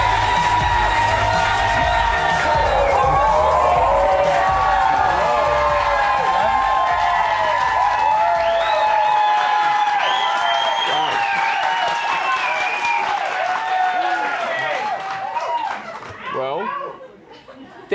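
A studio audience greets RJ Mitte with loud, sustained applause, cheering and whoops that carry on steadily before fading near the end, with a few shouts and some laughter mixed into the crowd noise.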